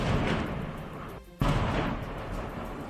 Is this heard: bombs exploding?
yes